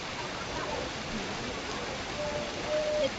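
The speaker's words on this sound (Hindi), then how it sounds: "ये बहुत शदीद बारिश स्टार्ट हो गई है" Heavy rain falls over rice terraces in Bali, a steady dense hiss of downpour throughout, with a faint thin whistle-like tone rising near the end.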